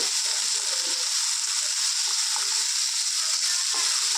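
Chopped tomato sizzles steadily in hot oil in a pan, a continuous bright frying hiss with faint soft stirring bumps underneath, no voices.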